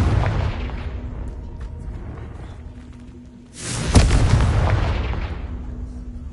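A Confringo blasting spell from a Harry Potter video game goes off as a loud, sudden explosive boom that rolls into a rumble and fades over several seconds, following a softer earlier rumble.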